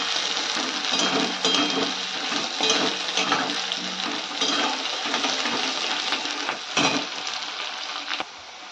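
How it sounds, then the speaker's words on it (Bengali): Chopped onions frying in hot oil in a pan, a loud continuous sizzle with scraping and stirring bursts throughout, fading slightly at the very end, no one talking. "এবারে পেঁয়াজটাকে হালকা লাল লাল ভাবে ভেজে নেব।"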